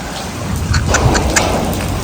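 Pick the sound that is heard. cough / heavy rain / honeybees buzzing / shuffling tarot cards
heavy rain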